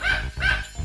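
Julie, a pet dog, lets out two sharp, close barks about half a second apart, each loud and bright, with a brief quiet gap between them and nobody speaking.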